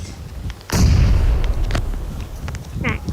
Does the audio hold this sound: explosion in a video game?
yes